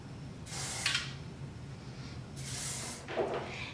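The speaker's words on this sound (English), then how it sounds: "I bought the hairspray. So I would just spray like a little bit." Hairspray sprayed onto straightened hair, two separate longer hissing bursts about two seconds apart, close and moderately loud with no one talking.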